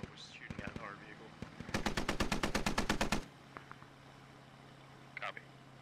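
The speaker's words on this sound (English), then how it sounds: "Enemy contact was shooting at our vehicle." Enemy machine-gun fire targets a vehicle in SquadOps: a long, rapid, steady automatic burst of about fifteen evenly spaced shots at moderate distance, with a few scattered single shots and radio-style voices talking around it.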